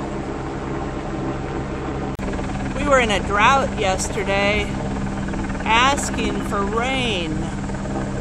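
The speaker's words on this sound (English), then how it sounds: "The noise you're hearing is still the helicopter." A helicopter's steady rotor drone fills the background throughout while someone speaks over it, beside the flooded Cannon River in Cannon Falls, Minnesota.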